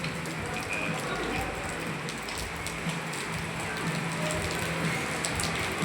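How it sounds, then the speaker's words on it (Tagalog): Rain falls steadily on a surface nearby, heard from inside a house, a constant wash of patter with faint background voices beneath it. "Nasa loob ng bahay kasi ulan nga"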